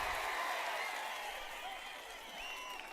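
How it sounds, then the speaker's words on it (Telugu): Crowd at a political rally applauding, a broad steady wash of clapping and cheering noise held at an even level throughout, fairly distant and diffuse with no clear individual claps standing out. "అవును అంటే గట్టిగా చప్పట్లు కూడా చెప్పండి"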